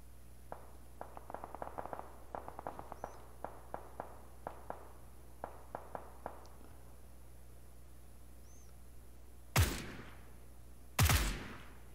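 Suppressed 9mm gunfire cracks out in sparse single shots and quick bursts, sharp muffled pops spaced irregularly, followed by two louder, heavier blasts near the end.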